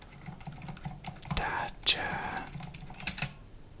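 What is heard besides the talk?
typing on a mechanical computer keyboard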